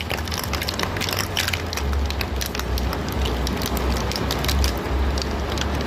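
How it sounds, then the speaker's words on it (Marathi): Ghee and ice cubes are whisked together in a bowl for ghevar, a dense, continuous scraping and crunching rattle with quick rhythmic strokes throughout. "हे फेटायचं असं आहे ना बर्फाला आणि तुपाने"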